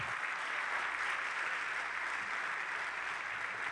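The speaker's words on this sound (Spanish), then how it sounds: "denle un aplauso fuerte al Señor Jesucristo" A church congregation applauds for Jesus Christ during a Spanish-language evening service, a steady, even wash of many hands clapping, faint and somewhat distant, with no talk over it.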